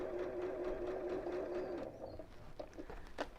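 A sewing machine stitches a smooth scallop curve in a rapid, steady mechanical whir that stops after about two seconds, leaving a few faint clicks and handling sounds.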